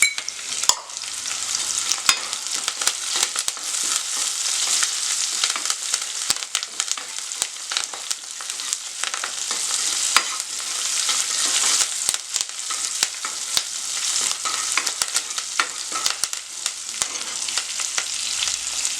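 Onion, chilies and curry leaves sputter in hot oil for a bottle gourd curd curry, a dense and continuous crackling sizzle broken by frequent scraping stirs close by.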